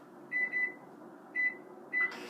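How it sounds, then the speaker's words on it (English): A microwave oven heating pizza gives four short, clear beeps, two close together and then two spaced apart, over a low steady hum, ending with a brief burst of noise. "microwave the pizza for 30 more seconds,"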